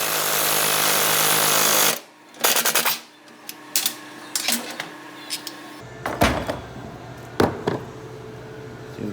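A ball joint on a Ford Bronco/F150 is driven home with a loud, continuous pneumatic rattle for about two seconds, followed by scattered metallic clunks and knocks as the tool is shifted.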